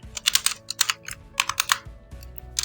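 Rapid bursts of keystrokes on a computer keyboard, typed in uneven clusters with short pauses between, close and fairly clear over a low background hum.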